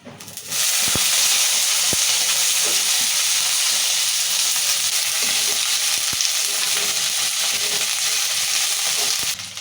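Dry red chillies drop into hot oil already holding peanuts, cumin and fenugreek for a gongura chutney, giving a loud, steady, close sizzle and crackle that fills the whole stretch without talk.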